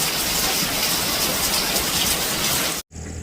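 A sudden, unexpected downpour drums steadily and loudly on surfaces outdoors, a dense, continuous hiss of rain with no speech, cutting off abruptly near the end.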